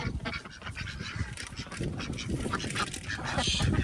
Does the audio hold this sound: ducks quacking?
yes